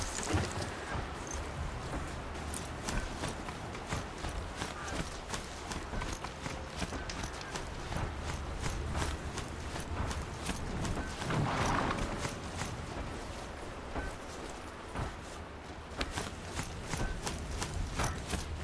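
Steady rhythmic clip-clop of a ridden mount's hooves in Horizon Zero Dawn, a continuous trotting gait of moderate loudness with faint ambient game sounds beneath and no talking.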